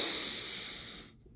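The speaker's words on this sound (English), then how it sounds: "First, take a deep inhale," A deep inhale taken during guided breathing practice, heard as a close, steady airy hiss that fades slightly and then cuts off abruptly into near silence.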